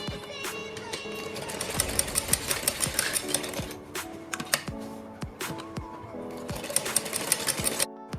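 An electric sewing machine stitches alongside buckram on a blouse back neck, running in steady rapid bursts with short pauses and the clack of the needle mechanism, close and clear with no talking.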